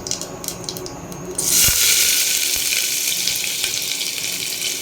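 Onions drop into hot oil already holding cumin, setting off a loud, steady frying hiss that swells suddenly and stays broad and bright, close up, with a soft pan clatter near the start.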